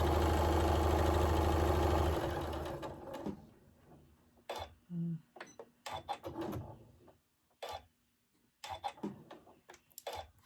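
A sewing machine runs in one steady, loud burst of stitching on a bear paw quilt block, then stops after about three seconds. Scattered quiet clicks and handling noises follow, with a person talking in between.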